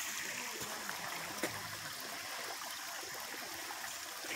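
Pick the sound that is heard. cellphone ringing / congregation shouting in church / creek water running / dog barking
creek water running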